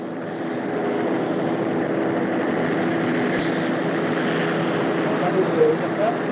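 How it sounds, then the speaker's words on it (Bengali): A helicopter engine starting up at a wedding flight pad, a steady droning whine that swells gently as it spins up, heard nearby with wind and someone talking over it. "আরেকটা হেলিকপ্টার ট্রাই করতেছে। এই তো দেখেন স্টার্ট নিচ্ছে"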